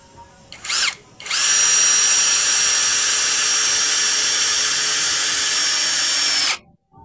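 A Keelat cordless drill driving a screw: a brief whirring burst, then a long steady high motor whine held for about five seconds before stopping abruptly, loud and close.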